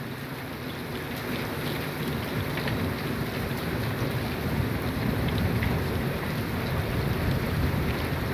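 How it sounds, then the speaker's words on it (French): Steady moderate rain with a thunderstorm, as in a March hailstorm near Alès, France, heard from a sheltered spot; a continuous dense patter of rain and rumbling low thunder fill the clip evenly without voices. "Sûrement un impact noyé dans les précipitations."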